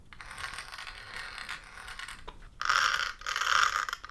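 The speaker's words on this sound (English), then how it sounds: "You can hear they both got metal gears" Metal gears in an RC monster truck whir and ratchet close by, quiet at first and then louder in two grinding bursts, with no voices.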